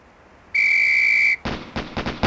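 A sharp, steady referee-style whistle blast sounds for nearly a second in the 1995 game Police Quest: SWAT, followed by a rapid string of gunshots on a firing range.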